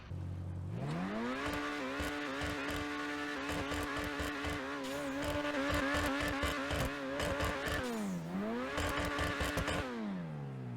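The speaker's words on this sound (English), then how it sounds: "let's take a little listen to the car here" A Grotti Itali GTO car engine in GTA Online revs steadily with a rising then sustained whine, dipping and climbing again near the end, loud and continuous with no talking.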